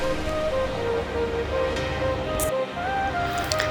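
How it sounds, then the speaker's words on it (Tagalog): Big ocean waves at Shek O Beach on a cool early morning, a steady broad roar of surf with a faint tonal hum running through it, continuous and fairly close, with no talk. "Ang lalaki ng mga alon."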